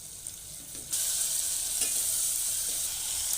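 Turmeric, sabzi masala, homemade masala and salt are stirred into a vala (field bean) curry in a pan, a soft scrape that jumps into a steady, bright sizzle about a second in and carries on alone.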